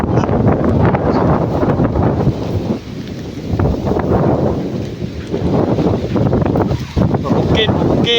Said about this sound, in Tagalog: Suka man sa hangin dire.